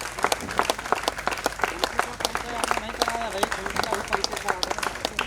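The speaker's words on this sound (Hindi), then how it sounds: "मुन्ना जी के लिए जोरदार तालियां" An audience claps loudly for musician Munna ji after a stage play, with dense, rhythmic applause running throughout and a faint voice speaking underneath.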